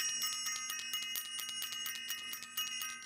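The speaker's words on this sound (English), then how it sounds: "I'm going to ring the bell for them." A bright metal bell rung rapidly and steadily over a spiritual new moon group gathering, its dense ringing strikes sustained and loud throughout with a lingering tone, and no voices.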